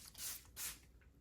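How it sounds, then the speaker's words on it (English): Two quick hissing bursts of setting spray misted onto a face over foundation, close and soft, followed by a fainter third puff. "Then I just use our setting spray."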